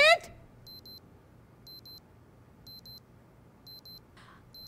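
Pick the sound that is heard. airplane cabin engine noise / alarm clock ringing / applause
alarm clock ringing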